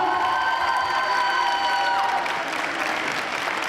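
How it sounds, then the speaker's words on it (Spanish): A crowd at a dance competition applauds and cheers loudly for the jury, dense steady clapping with whoops, while a held musical tone fades out partway through. "Un fuerte aplauso para nuestro jurado, por favor."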